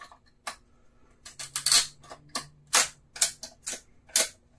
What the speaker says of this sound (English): I'll be using a set of PVC cutters to split the wood